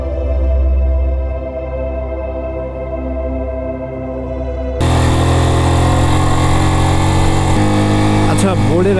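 A motorcycle engine labours loudly and steadily up the steep climb to Keokradong, droning close by with a sudden jump in roar partway through.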